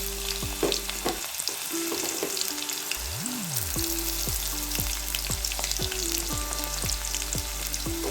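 Garlic, ginger and green chili sauté in a hot pan for mango-ginger pickle, giving a steady, close sizzle with scattered spoon scrapes and clinks and no talking.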